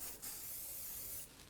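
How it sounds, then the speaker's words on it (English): Hairspray is sprayed onto the roots of hair in a styling session: one steady, close aerosol hiss lasting just over a second, with no talking. "So, we're just going to spray the root again real quick."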